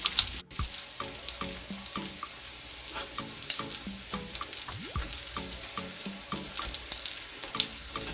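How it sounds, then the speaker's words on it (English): Jamaican saltfish fritters frying slowly in oil, heard as a low, continuous bubbling sizzle with scattered small pops and a few faint kitchen clinks and knocks in the background, no voices. "fry it slowly"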